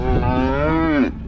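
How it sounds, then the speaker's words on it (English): A bull calf gives a single loud, close moo lasting about a second, a steady tonal bellow that tails off at the end, heard on a snowy farm during a blizzard. "Another bull calf."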